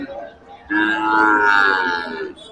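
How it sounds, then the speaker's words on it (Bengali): Cattle at a busy village cow market give one long, loud, close moo that rises and swells before trailing off, over low crowd background noise. "গরুর আওয়াজ তো শোনা যাচ্ছে"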